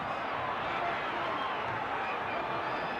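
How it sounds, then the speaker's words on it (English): A boxing arena crowd roars continuously as spectators urge on Muhammad Ali in round 9 of his fight with Oscar Bonavena, a steady, distant wash of cheering without breaks. "crowd exhorting Ali on"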